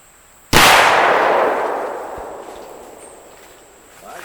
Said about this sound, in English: One on the left, I'm going to shoot the 30 or 350 Legend.